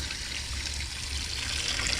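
Water trickles and splashes steadily over a lizard, a soft continuous hiss of running water, close by and fairly quiet, with no talking.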